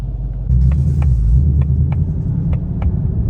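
A 2024 Ford Mustang Dark Horse V8 rumbling while driving, a loud deep throbbing engine note that jumps up after half a second and holds steady, with faint ticking clicks above it and no talking.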